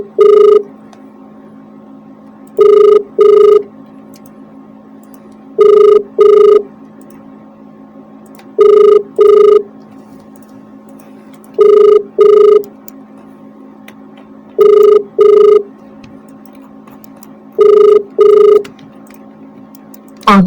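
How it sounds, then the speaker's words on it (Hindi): A telephone rings in regular double bursts, seven pairs evenly spaced with short silences between, clear and close. "देखते फोन की घंटी बज"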